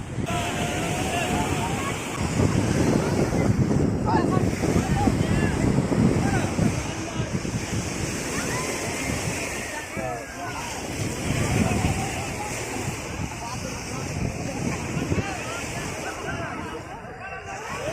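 Wind buffeting the microphone over breaking waves at Bahary beach in Alexandria during Eid, a steady loud roar of surf and gusts throughout, with people talking nearby.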